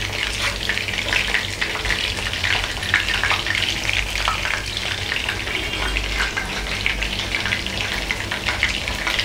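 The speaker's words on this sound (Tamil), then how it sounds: "நம்ம எல்லா சிக்கனையும் ஃப்ரை பண்ணி எடுத்து தனியாக எடுத்து வச்சுக்கலாம்" Chicken pieces frying in oil for chilli chicken, making a loud, dense, continuous crackling sizzle with no voices over it.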